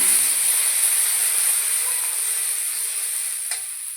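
Turmeric, cumin and chili powder frying in hot oil in a pan, a continuous bright hiss and sizzle that fades slightly toward the end, with a few faint knocks of stirring.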